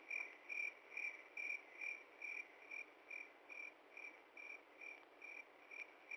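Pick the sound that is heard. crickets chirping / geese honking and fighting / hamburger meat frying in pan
crickets chirping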